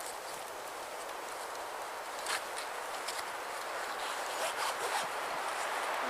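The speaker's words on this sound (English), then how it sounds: "We can of course open the whole zip up if we wanted to." Zip on a Dutch Army hooped bivvi being drawn open outdoors, a steady close rasp with a few louder scratchy pulls toward the end.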